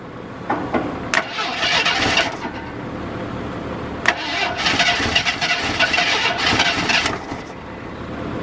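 Jeep Cherokee Pioneer cold-starting after sitting 24 years: the starter cranks, the engine catches and sputters, then cranks and fires again into a rough, uneven run, loud and close with faint voices around.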